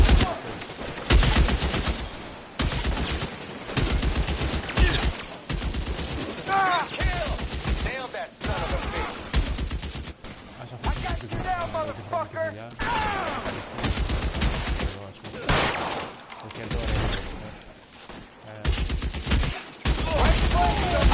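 Gunshots in L.A. Noire come as repeated sharp cracks and short volleys across a long stretch, mixed with talking voices throughout.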